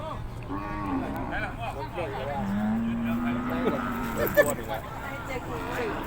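Water buffalo at a busy livestock market give long lowing moos over several seconds, with people talking and market bustle around them.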